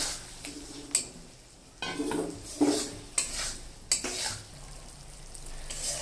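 Prawns stirred in plenty of hot oil for prawn kosha: a constant sizzle with repeated scraping and clinking of a spoon against the pan, several sharp stirring strokes standing out.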